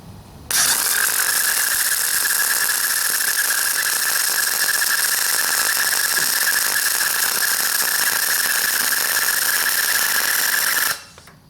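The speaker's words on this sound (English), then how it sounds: "I'm going to lay another bead on top of that one." A welder laying a bead on a washer at 125 amps, heard as one loud, continuous crackling hiss with a steady high buzz, starting abruptly and stopping after about ten seconds.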